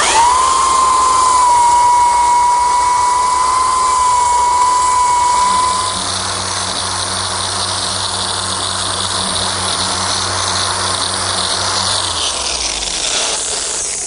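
A belt sander fitted with an 80 grit belt works across a butcher block, a loud steady motor whine with a high tone for the first six seconds, then a rougher sustained sanding roar that winds down near the end.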